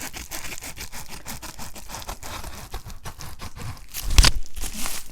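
Shipping material being cut by hand, scissors snipping and tearing through it in a steady, close series of crisp strokes, ending in one louder rip.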